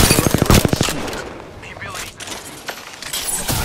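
Rapid automatic gunfire bursts in the Apex Legends video game, a quick rattling volley up front followed by scattered shots and impacts, loud and close, with game voice lines mixed in.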